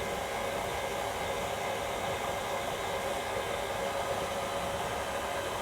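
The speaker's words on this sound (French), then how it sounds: "Donc là au batteur ça prend un peu plus de temps." An electric mixer creams margarine for a vegan sweet pastry dough, giving a steady, loud whirring motor drone that holds without a break throughout.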